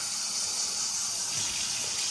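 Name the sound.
warm water poured into dry ingredients for focaccia dough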